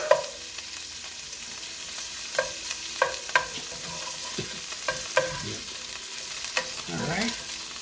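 Shrimp frying in a pan for arrabbiata, with a steady sizzle under scattered sharp clinks and stirring scrapes from a utensil, close and fairly quiet.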